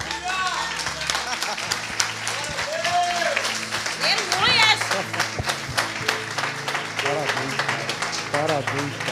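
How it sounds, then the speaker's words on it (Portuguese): Congregation clapping in a church service, rhythmic applause under loud talking, with voices and other sounds mixed in throughout. "As palmas, louva ao Senhor."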